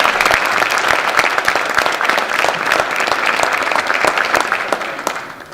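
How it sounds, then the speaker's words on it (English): Sustained audience applause fills a school National Honor Society induction ceremony, steady dense clapping from a large crowd throughout, tapering slightly at the end with no talking. "So let's give a nice round of applause for them."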